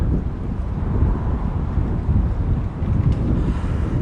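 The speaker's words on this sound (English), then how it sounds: "Just look how windy it is" Gusty wind blows through winter woods, a loud continuous rushing buffet with low rumbling battering close to the microphone.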